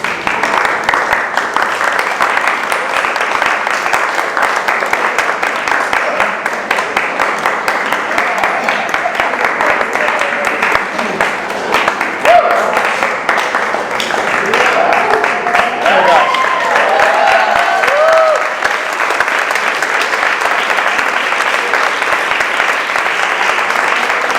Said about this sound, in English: I need you to give me a hand clap real quick